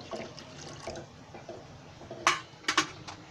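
Water poured into a pot holding coconut milk, a light splashing trickle with a few brighter sloshes and clinks near the end, close and fairly quiet.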